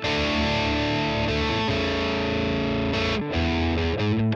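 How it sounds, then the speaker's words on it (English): A double-tracked electric guitar recorded through an amp and pedals with different mics and settings plays thick, sustained distorted chords, loud and alone, then shifts to choppier stabs near the end. "here's the double using different guitar, different mics, different settings on the amp and pedals"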